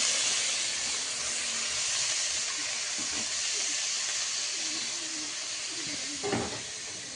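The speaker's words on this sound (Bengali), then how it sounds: "তো এই যে গাজর আর বিনসগুলো ধোয়া হয়ে গেছে, তো আমি এখন এগুলোকে দিয়ে দেবো কড়াইতে।" Carrots and beans sizzle in a hot wok with a constant bright hiss, broken once near the end by a brief clatter.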